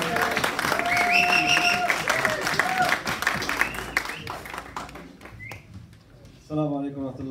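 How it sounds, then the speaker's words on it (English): Applause from an audience at a London sports award ceremony as a guest is called to the stage, dense crowd clapping with music and cheering that fades out, then a voice begins speaking. "Welcome with a round of applause."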